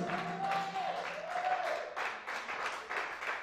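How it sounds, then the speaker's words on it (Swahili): Church congregation clapping in praise, faint and fairly distant applause in rhythmic waves, with a faint sustained tone underneath at the start. "mpe Yesu makofi mazuri ya utukufu"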